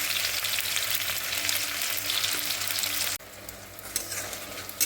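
Tomatoes go into a pan of softened onions frying for a spicy Bengali fish curry, giving a steady loud sizzle with stirring that suddenly drops and quiets near the end, then small spits and clinks.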